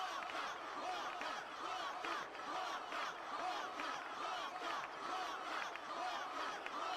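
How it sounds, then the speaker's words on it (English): Stadium crowd in Final Fantasy X chanting and cheering in a steady, dense roar with rhythmic swells that persist throughout. "Oh, they're cheering for me."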